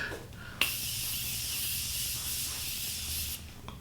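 Makeup setting spray misted onto a face in one long, close hiss of nearly three seconds, preceded by a sharp click of the nozzle, alone without talk.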